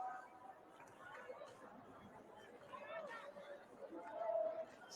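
A stadium crowd at a women's football final, a steady low murmur of distant chatter and hubbub that swells slightly near the end, heard faintly with no clear voice on top.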